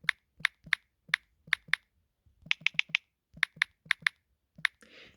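Typing on a computer keyboard: crisp, close key clicks in short irregular bursts with brief pauses between groups, sounding alone in a quiet room.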